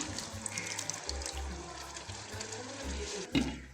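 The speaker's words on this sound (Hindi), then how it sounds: "अब इसमें तकरीबन आधा कप पानी शामिल कर दें।" Water poured into a pan of cooking summer squash, a soft splashing and sizzling pour heard faintly and alone, ending in a brief clatter.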